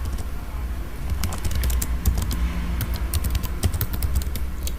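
Someone types on a computer keyboard, a quick run of light key clicks in irregular bursts over a low steady background hum, with no talking.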